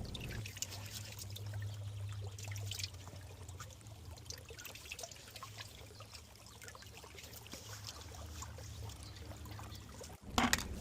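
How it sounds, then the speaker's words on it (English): Water flowing back from a customer's water line into a meter box after an old water meter is removed, a steady close trickling pour that runs without a break before ending in a brief clunk. "that's water that's going to come back into the meter box from the customer's water line"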